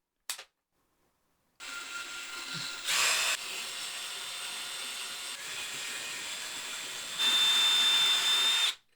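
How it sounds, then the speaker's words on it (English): A power drill with a tube-sized bit whirs in a few long bursts after a short pause, its pitch rising slightly for the final loud stretch. "So I brought a drill bit the size of this tube."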